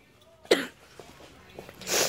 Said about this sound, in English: So let me cough and yeah.